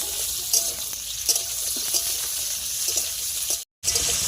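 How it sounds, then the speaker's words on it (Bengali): Potatoes fry in a pan, meant for a cabbage and pea dish, giving a steady hissing sizzle with occasional soft stirring knocks and a brief cut of silence near the end. "আলুগুলো লাল লাল করে ভেজে নিতে হবে"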